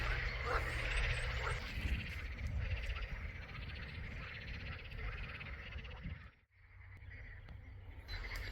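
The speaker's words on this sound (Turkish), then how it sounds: "Bütün gece kurbağa sesleri hiç dinmedi." A dense chorus of frogs croaking steadily in the open in the Karacabey Longoz swamp, broken by a brief dip near the end, with a low rumble underneath.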